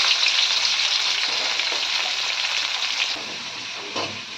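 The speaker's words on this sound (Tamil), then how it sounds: "பொரியட்டு பொரியட்டு போடுவேங்க வெங்காய கருவேப்பு போட்டுக்கலாம்" Onions and curry leaves fry in hot oil in a pan for a home-style tempering, giving a steady, dense sizzle that crackles on throughout and eases slightly toward the end.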